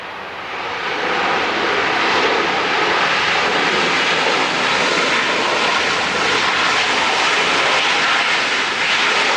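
A Southwest Airlines jet airliner at LAX gives off a loud, steady engine roar that holds evenly from start to finish with no voices over it.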